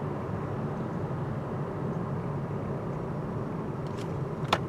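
Steady road and tire noise heard from inside the cabin of a 2014 Mazda6, with passing cars swelling faintly past the sides over a constant low rumble, no talking.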